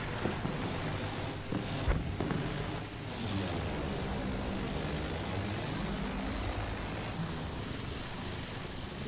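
Propeller aircraft from the First World War shooter Battlefield 1 drones steadily overhead, a broad continuous engine roar with a slight swell near the start, moderately loud and holding for the whole stretch.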